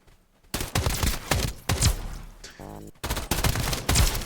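Machine gun fire from spiders in a video game: loud, rapid bursts of automatic gunfire that start abruptly after a quiet moment, break off briefly, then resume.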